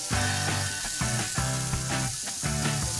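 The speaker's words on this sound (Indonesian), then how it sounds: "Nah, tinggal kita goreng deh." Mushrooms coated in sorghum flour fry in hot oil, giving a steady, close, dense sizzle and crackle that runs without a break.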